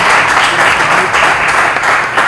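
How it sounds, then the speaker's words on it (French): Applause from a TV quiz show studio audience in Lubumbashi, a dense continuous patter of many hands held steady and loud for a couple of seconds. "à vous, Étienne, merci de l'applaudir."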